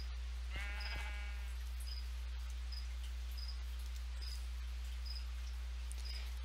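A baby sheep bleats in a video game, one short wavering cry near the start over a low steady hum, with soft cricket-like chirps repeating in the background.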